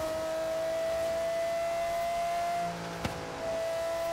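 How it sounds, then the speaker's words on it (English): Loud, steady drone of a car engine in Forza Horizon 3, holding a high sustained tone with a brief dip and a sharp click near the end, with no voices over it. "This car's so loud."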